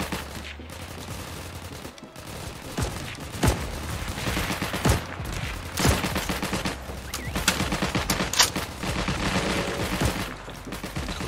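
Dense gunfire from the Heroes & Generals WWII shooter game, bursts of rifle and machine-gun shots cracking loudly in rapid, uneven volleys throughout, with no talking over them.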